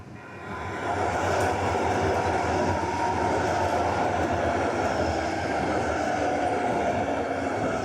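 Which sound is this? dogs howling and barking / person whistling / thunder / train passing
train passing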